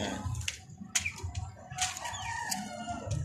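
Several chickens cluck and squawk close by in a busy, continuous chorus, with sharp calls rising over the flock.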